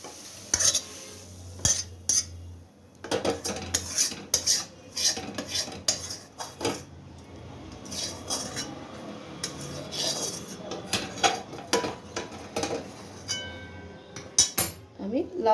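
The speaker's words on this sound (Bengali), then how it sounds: "আমি এরপরে লাউ চিংড়িটা ঢেলে দিচ্ছি।" Cooked bottle gourd and prawn curry is spooned and scraped from a pan into a dish: repeated clinks, scrapes and knocks of a utensil against cookware, with a faint sizzle underneath.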